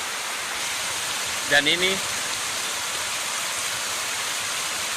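Waterfall at natural bathing pools on the Hoogland river, a dense steady rushing roar throughout, with someone speaking briefly over it.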